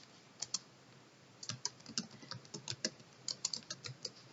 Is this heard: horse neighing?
no